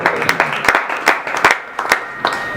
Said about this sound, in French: Applaudissez un peu pour le Seigneur.